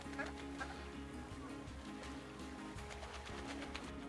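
Blue Muscovy ducks on a duck farm in Kenya, soft low hisses and murmuring calls with scattered bird chirps, continuous and fairly faint in an outdoor yard.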